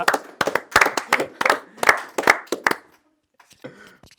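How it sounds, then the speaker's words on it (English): A burst of clapping from a small group, steady and close for about three seconds, then fading out to near silence. "Let's give a round of applause for them."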